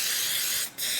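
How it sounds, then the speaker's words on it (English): A close aerosol can hisses in a steady, loud spray while making door panels for a 1964 VW Karmann Ghia, cutting out for a split second before resuming. "Oh, this spray's a lot better."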